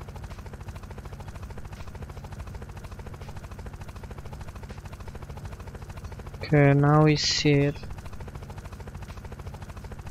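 Helicopter in the video game Unturned flying with a steady low rotor drone throughout, while someone speaks briefly over it near the end.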